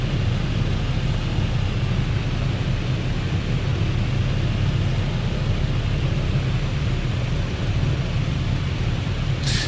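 A light aeroplane engine in a flight simulator, a steady broad droning rumble with wind-like hiss throughout, unchanging and alone without talk.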